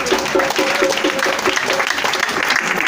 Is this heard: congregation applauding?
yes